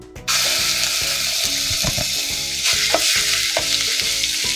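Ginger garlic paste hits hot groundnut oil and fries with a loud, steady sizzle, punctuated by rhythmic scraping and stirring clicks from the pan throughout.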